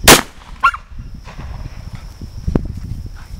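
A shotgun fired into the ground outdoors: one sharp, loud blast at the start, then a low rumbling background with faint scattered noises.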